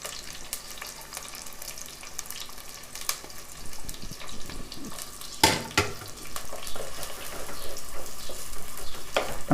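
Onions and chicken frying in a pan for a Telangana-style chicken fry, a steady sizzle with scattered utensil clicks and scraping stirs, one sharp clatter midway, getting a bit louder toward the end, no talking.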